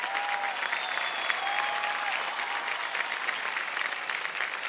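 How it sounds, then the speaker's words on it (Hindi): Studio audience applause on the Kaun Banega Crorepati quiz show set, a steady dense wash of clapping that holds evenly throughout at moderate level, with faint tonal music lines drifting underneath. "तालियां बज जाएं"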